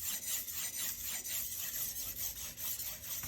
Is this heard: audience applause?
no